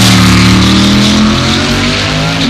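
A dragster engine revs hard and loud at close range, a continuous harsh roar with strong low harmonics that holds steady for a couple of seconds before cutting off abruptly at the end.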